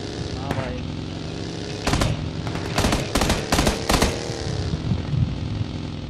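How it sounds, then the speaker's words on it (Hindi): Bursts of automatic gunfire crackle in the battle royale video game PUBG Lite, several rapid clusters of loud shots over a steady engine-like drone, with a few seconds of quieter background before the shooting starts. "मेरे को कोई गोली मार रहा है दोस्त।"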